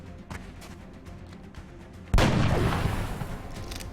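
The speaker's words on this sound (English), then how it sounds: "Let's first of all use the disabling shot" A disabling shot fired in the turn-based strategy game XCOM at a UFO crash site: after a low rumbling lead-in with faint taps, one sudden loud blast hits and rings out into a decaying roar.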